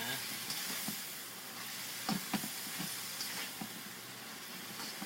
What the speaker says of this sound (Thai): เราก็ผัดต่อไปเรื่อย ๆ นะคะ